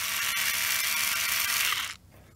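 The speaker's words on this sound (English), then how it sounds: "this is just again Phillips screwdriver" A power screwdriver with a Phillips bit whines steadily as it backs out screws from a plastic cover on a Vespa GTS 300 scooter, then spins down and stops, close and loud with no voices.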